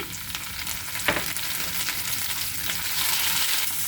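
Garlic and tomatoes fry in hot oil for masala fries, a close, continuous crackling sizzle with a sharp stir or scrape near the start and the hiss swelling slightly toward the end.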